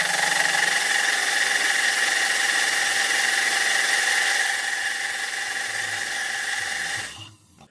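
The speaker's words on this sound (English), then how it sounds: "Let's crank it and just get a visualization of how it's breathing with intake and exhaust." A 2007 Mercedes S550 with a misfire fault running at idle, a steady loud engine drone with a high whine that eases partway through and then cuts out near the end, with no talk.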